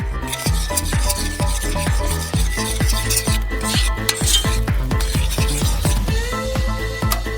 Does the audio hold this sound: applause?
no